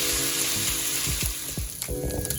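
Sausage frying in a pan for cornbread dressing, a loud steady sizzle with scraping stirs of a utensil across the pan, close up with no talking.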